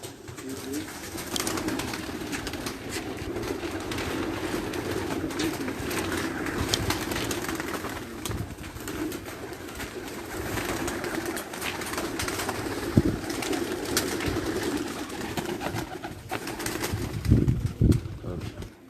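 Pigeons at a pigeon-flying competition in Dina, Jhelum, cooing and fluttering around a loft, with steady moderate background noise and occasional louder bumps and flaps; someone speaks now and then.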